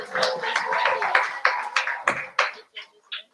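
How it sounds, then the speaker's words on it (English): Audience at a school public speaking competition clapping for a student speaker, a burst of applause that thins into a few scattered separate claps and fades out. "give her a round of applause as she comes"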